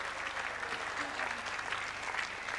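Subdued applause ripples steadily through a partisan Australian crowd at a triples lawn bowls match between New Zealand and Australia, a soft continuous patter of clapping at a moderate distance with no voices on top.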